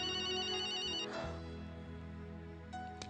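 A telephone ringtone chimes with a repeating melodic pattern, fairly quiet, followed by a brief click as the call is answered, in an indoor scene from a Hindi drama.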